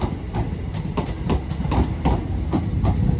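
Electric multiple unit 325007 rolls through Crewe station, heard up close as a steady rumble with regular clickety-clack beats from the wheels crossing rail joints.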